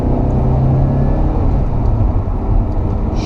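Porsche 944 S2 engine droning steadily from inside the car while driving, a loud continuous low rumble that holds even throughout without pause.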